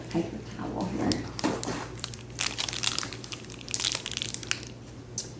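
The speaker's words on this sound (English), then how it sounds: "Let's get a paper towel here." Paper towel torn from a roll and crumpled in a kitchen while baking banana chocolate chip muffins, giving bursts of close crinkling and tearing over a steady background hum.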